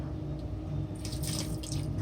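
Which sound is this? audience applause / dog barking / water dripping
water dripping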